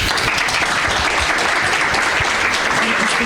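Symposium audience applause at a university fills the whole stretch, dense and steady with no pauses, loud and close.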